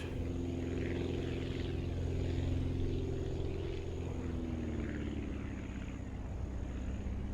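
A propeller plane cruises in the flight game Aviassembly with a steady droning engine hum and buzz, constant and unbroken, with no voices.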